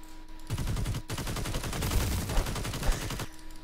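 A minigun in the video game RELL Seas fires a rapid, continuous burst of gunfire for about three seconds, loud and dense, with quieter moments before and after.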